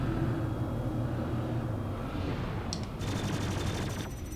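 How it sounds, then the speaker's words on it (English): Sustained rapid fire from spacecraft weapons in Star Citizen, a steady loud roaring stream of shots over engine hum, with sharper bright bursts breaking through toward the end. "And then firing with the left mouse button."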